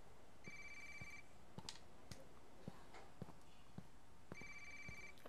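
A phone rings inside the video game Watch Dogs, two bursts of electronic ringing at the start and end with soft clicks and taps between them, fairly quiet.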